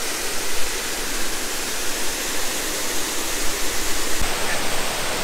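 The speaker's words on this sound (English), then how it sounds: "when we drain this lock down into the next lock, that will then fill that for us to go in" Water rushing and spilling through a very leaky canal staircase lock as it drains into the next chamber, a steady, loud, close roar of falling water with no voices.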